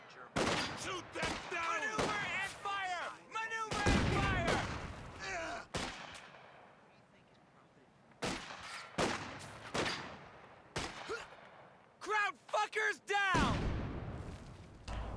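Artillery and grenade fire in the video game Company of Heroes 2: repeated heavy blasts and booms, some loud and close, others more distant, arriving in irregular bursts while someone talks over most of them.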